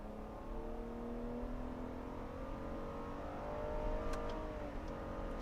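A 2017 Nissan Murano Platinum AWD pulls hard from first gear in manual mode, its engine note rising steadily in a smooth, continuous drone with a brief climb near the end, heard from inside the cabin.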